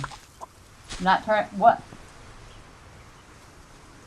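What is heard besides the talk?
chicken clucking in the video game Solarpunk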